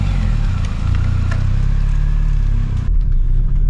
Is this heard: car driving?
yes